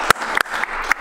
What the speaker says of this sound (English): That's another round of applause for those guys.